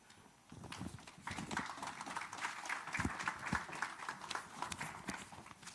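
A conference audience applauds its panelists, a full, dense burst of clapping that swells in after a quiet half second and stays loud and busy to the end.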